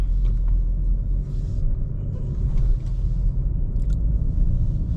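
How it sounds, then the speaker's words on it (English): A 2025 BMW M4 CS engine rumbles low and steady from inside the cabin, with active sound design switched off and no speaker enhancement. "So now it's going to be the way the car is supposed to normally sound without any digital, you know, enhancement pumping through the speakers."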